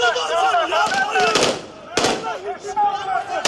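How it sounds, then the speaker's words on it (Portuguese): Scattered gunshots and heavy blasts ring out in a noisy, reverberant scene during the failed 15 July coup attempt in Turkey, with a couple of loud bursts standing out and voices throughout. "às primeiras horas do dia ainda se ouviam tiros e explosões na Turquia"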